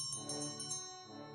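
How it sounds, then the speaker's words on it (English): Bell ringing repeatedly in the horror game An English Haunting, a faint, steady metallic tone with sustained harmonic overtones and soft strikes recurring about every 0.15 seconds, alone without voices. "Okay, I'm just gonna keep ringing the bell."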